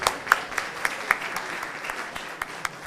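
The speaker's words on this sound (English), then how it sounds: "Let's give a round of applause to all you people." Sparse applause from a conference audience, a handful of separate sharp claps spaced irregularly over a quiet room, close and thin rather than a full ovation.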